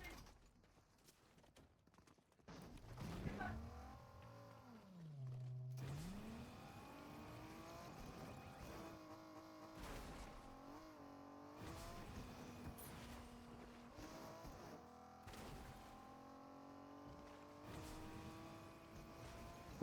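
A car in the Fortnite video game starts up and drives, its engine revving and shifting pitch repeatedly over about fifteen seconds, moderately loud with occasional clattering impacts.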